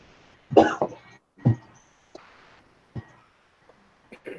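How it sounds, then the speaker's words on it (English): Several separate coughs and throat-clearing bursts spaced irregularly over a few seconds, fairly close and moderately loud against a quiet indoor background, with no talking. "Not me. Coughing."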